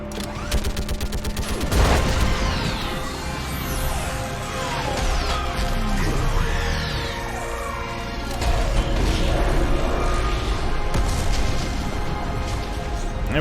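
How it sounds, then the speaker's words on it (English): Orbital strike bombardment in a sci-fi video game battle, with a dense run of loud crashing blasts, booms and rattling debris over the whole stretch, with faint voices mixed under the chaos. "I need an orbital strike. We're clear. Fire at will."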